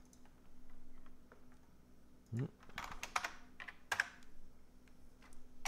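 Keys clack on a computer keyboard in scattered bursts, close and fairly crisp, with a few louder isolated taps and clusters of quick strokes over several seconds of quiet room hum.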